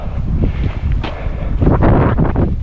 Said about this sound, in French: Et là il y a pas mal de vent.